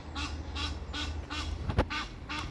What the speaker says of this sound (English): But it's called an Egyptian goose.